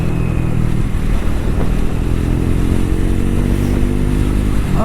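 A Triumph Thruxton 400 motorcycle engine drones steadily and loudly at speed through a continuous ride, with pitch rising as the engine pulls through the gears. Wind rush and road noise sit under the engine note, close to the rider.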